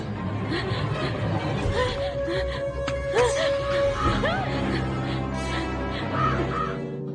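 Crow cawing from Kisirat, a pet crow, sounding as repeated harsh calls over a busy, noisy film soundtrack with voices and clutter in the background.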